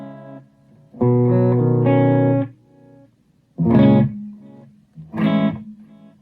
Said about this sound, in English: So here's just the delay.